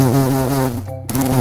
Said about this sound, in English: And the bee makes this great sound.